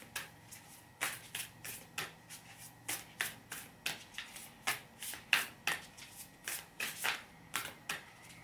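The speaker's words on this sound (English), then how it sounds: "Let's pull a card, a Moonology card for him." Moonology oracle cards being shuffled by hand, a quiet close series of rhythmic riffling flicks repeating roughly twice a second, with no one talking.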